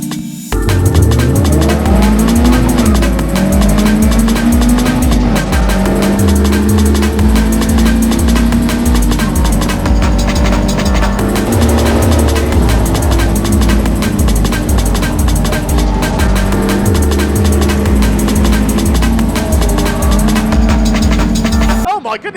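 Caterham race cars scream past on a circuit in a tight pack, engines revving up and down through gears continuously, loud and close, with an excited commentator talking over the racing.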